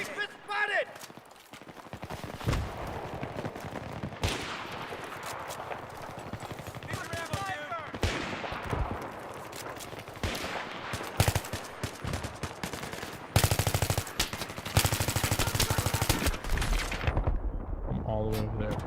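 Battlefield 3 firefight on PC: dense bursts of rifle and machine gun fire crackle and rattle in rapid volleys, some close and loud, others farther off, with sharp single shots scattered between and a heavy sustained barrage near the end.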